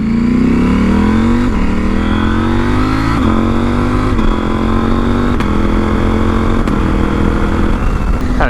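A decat KTM 790R Rally motorcycle pulls hard through the gears, its loud exhaust note climbing in pitch, dropping briefly at each shift and climbing again, steady and close with no talk.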